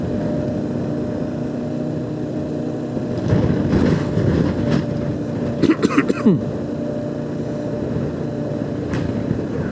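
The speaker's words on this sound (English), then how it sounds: "There's a nice bike approaching there. Two nice bikes, touring bikes." Two touring motorbikes approach along a road, their engines rising to a nearer rumble over steady traffic noise, with a few sharper bursts as they pass.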